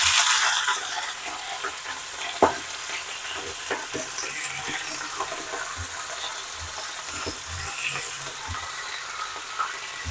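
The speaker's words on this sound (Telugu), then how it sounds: "కడిగి పెట్టుకున్న పాలకూరని ఆయిల్లో వేసుకుందాం" Washed spinach sizzling in about two spoons of oil in a pan on a stove, a steady crackling fry with occasional stirring scrapes and a sharp clack, alone without talk.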